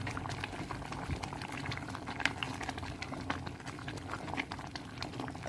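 A pot of lentil soup with vermicelli and salt boils at a soft, steady bubble, with faint continuous popping and a few sharper blips, heard alone and at low volume.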